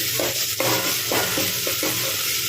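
Ginger garlic paste with onions for chicken curry fries loudly in a pan, a steady sizzle broken by several quick stirring scrapes.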